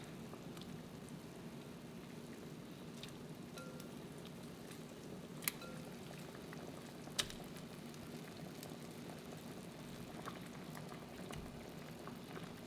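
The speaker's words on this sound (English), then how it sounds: "We're gonna let that simmer for a few seconds." A pot of beef stew with bay leaves simmering quietly, giving a soft, steady bubbling hiss with a couple of sharp little pops.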